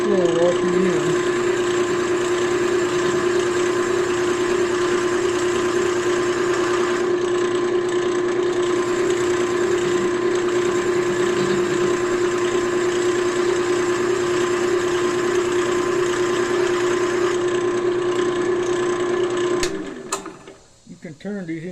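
A wood lathe spins a pen blank at very slow speed, giving a steady, even mechanical hum with a strong low tone that holds throughout before winding down near the end.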